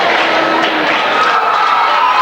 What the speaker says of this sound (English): A loud crowd here tonight.